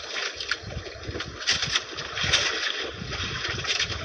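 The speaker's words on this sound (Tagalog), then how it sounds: "Malakas na talaga yung hangin, no? Hinahampas na yung bangka." Strong wind roars over the microphone while waves slap against a fishing boat's hull in repeated dull knocks, steady and close.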